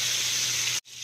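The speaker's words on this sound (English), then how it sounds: "See the way it sizzles there." Lamb frying in a pan with butter gives off a bright, steady sizzle and hiss that cuts out abruptly near the end, then resumes more faintly.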